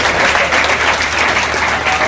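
An audience at a Udaipur memorial poetry event claps loudly to welcome the local Arya Samaj president, Ashok. The steady, thick applause from many hands holds at an even level throughout.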